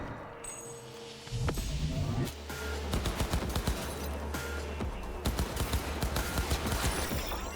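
Gunfire in the video game Cyberpunk 2077: after a short quiet start, rapid bursts of shots crack out repeatedly over a rumbling low background, loud and sustained in irregular volleys.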